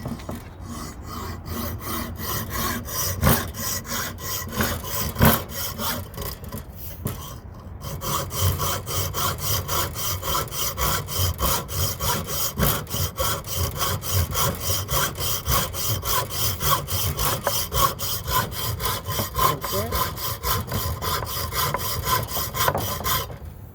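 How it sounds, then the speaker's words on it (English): A hacksaw works through a thick piece of metal in steady back-and-forth strokes, a close, rasping, rhythmic scrape that pauses briefly early on and then continues evenly. "and that's what a hacksaw is used for, cutting metal."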